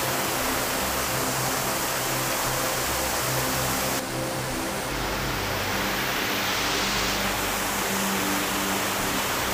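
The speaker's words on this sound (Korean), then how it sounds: "바람이 강하게 불어 파도 소리가 아주 잘 들리는" Ocean waves crash along the rocky Jeju coast as a strong wind blows, a dense, loud roar of surf and gusts that fills everything, with a sharper surge midway and no voices.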